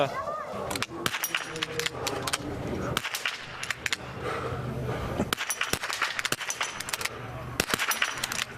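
Sharp, distinct biathlon rifle shots ring out one after another across a shooting range at a men's relay race, loud and close, while a commentator keeps talking underneath.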